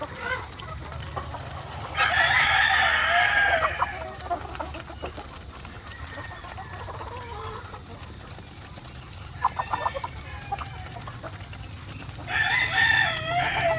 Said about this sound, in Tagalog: So ito yung mga white leghorn natin. Merong crosses ng Rhode Island Red.